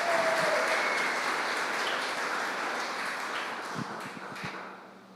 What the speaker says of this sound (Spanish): Dale un aplauso al Señor vivo que está aquí entre nosotros.